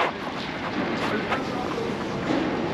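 Cold wind blows outdoors in a city street, buffeting the microphone with a steady broadband rush and a few gusty swells, faint and continuous with no clear speech.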